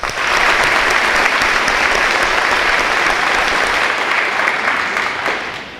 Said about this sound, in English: Let's give a round of applause to our faculty.